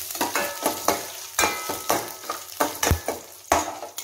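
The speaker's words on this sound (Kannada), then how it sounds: "ಕರಿಬೇವು ಹಾಕ್ಕೊಂಡು ಮೆಣಸು ಹಾಕ್ತಾ ಇದ್ದೇನೆ ನೋಡಿ" Curry leaves and chillies fry in a pan, the sizzle punctuated by repeated scraping strokes of a spoon stirring at an uneven rhythm, close and fairly loud.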